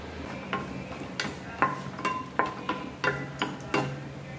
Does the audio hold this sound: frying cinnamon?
yes